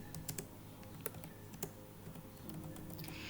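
Rapid, uneven clicking of a computer keyboard being typed on, close and fairly quiet, with a few louder key strikes standing out over a low steady room hum.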